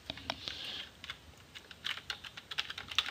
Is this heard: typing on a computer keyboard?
yes